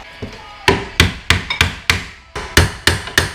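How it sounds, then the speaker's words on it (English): Sharp metallic clanks ring out about ten times in uneven succession as a pry bar works a car strut apart from the steering knuckle during a strut and spring replacement, close and loud with no talking. "So you stick a pry bar in here and just pry it apart."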